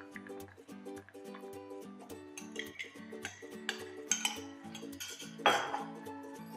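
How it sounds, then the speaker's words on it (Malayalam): A spoon stirs sambar in a metal pot after sambar powder has gone in, giving repeated close clinks and scrapes against the pot over a steady low hum. "നന്നായി ഇളക്കുക"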